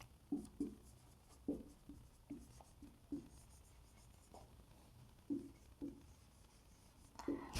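Marker or chalk writing on a classroom board during a Hindi-language lesson, heard as faint, irregular short scratchy strokes spaced through the quiet stretch.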